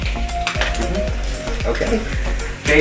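Black pudding frying in a little oil in a pan, a steady close sizzle with light clinks of utensils on the pan while a person speaks briefly over it.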